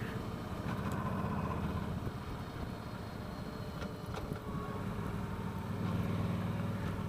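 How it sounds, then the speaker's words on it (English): A 2015 Star V Star 1300 Deluxe motorcycle engine braking: a continuous low rumbling engine drone with wind noise, steady and fairly close, with no speech. "Not too much engine braking."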